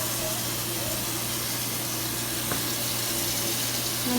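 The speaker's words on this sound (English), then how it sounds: "Put the water on warm." Warm water runs from a tap as a constant, even hiss that fills the whole stretch at moderate loudness, steady and unbroken, with a faint hum beneath.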